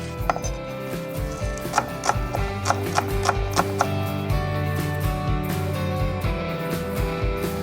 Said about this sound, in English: Cut off the root and just thinly slice.